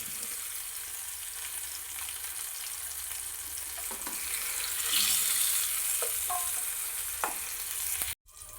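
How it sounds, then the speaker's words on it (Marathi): Tomatoes and green chillies frying in oil for a mater paneer masala, a steady close sizzle with a few stirring clacks, ending in a sharp clunk and brief quiet. "हिरव्या मिरच्या पण तेलात परतून घ्यायच्या आहे।"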